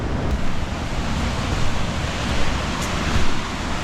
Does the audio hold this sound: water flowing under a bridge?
yes